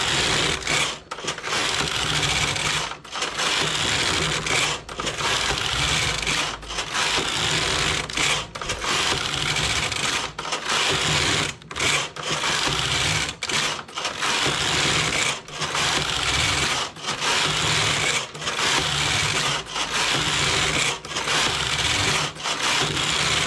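Knitting machine working slowly under a heavy load, a steady loud mechanical clatter with regular rhythmic strokes of the carriage repeating about once a second, alone with no speech.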